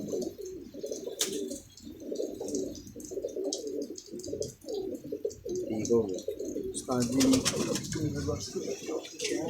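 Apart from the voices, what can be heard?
pigeons cooing in their coop after rain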